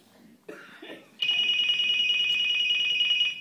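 A mobile phone rings, a loud, steady electronic tone sounding continuously after a short moment of quiet with faint voices.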